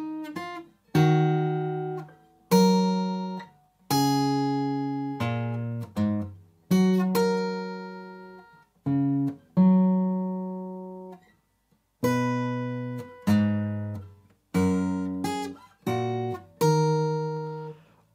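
Fingerstyle acoustic guitar slowly picks a melodic line: separate plucked notes and chords, each ringing and decaying, with short pauses between phrases and no voice.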